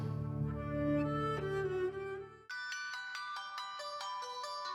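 A telephone ringtone plays as a bright, repeating electronic melody, clear and steady, following a brief stretch of music with no talk over it.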